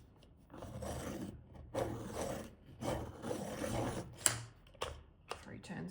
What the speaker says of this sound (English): I'm going to have to sharpen this. It's getting a bit blunt.